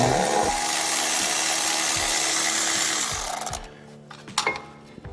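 Loosening the 10 mm nut holding the ABS sensor on a Chevy Equinox, with a power tool whirring steadily and loud for about three seconds, then stopping, followed by a few faint clicks and knocks.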